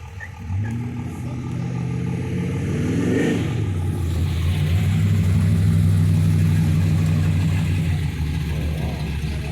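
A hot rod pulls into an outdoor car show, its engine rumbling steadily close by, with a brief rev partway through before it settles back into a loud, continuous low drone.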